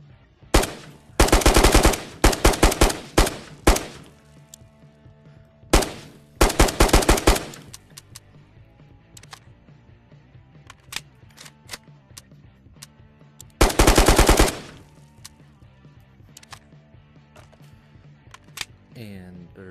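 Automatic weapon fire from the VR shooter Ghosts of Tabor, several loud, rapid bursts separated by pauses with faint mechanical clicks and handling sounds between them.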